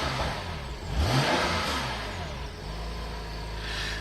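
A BMW M4 CS sports car engine revs up sharply in a brief throttle blip, then settles into a steady, close, rumbling idle with no talking.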